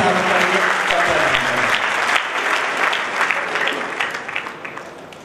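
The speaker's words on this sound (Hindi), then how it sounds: "जोरदार तालियों से स्वागत करेंगे।" A hall audience gives loud, dense applause at the opening of a Hindi cultural program, with someone speaking over the clapping, which thins into scattered claps as it fades.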